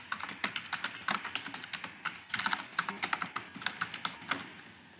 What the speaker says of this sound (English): And we'll type the text here.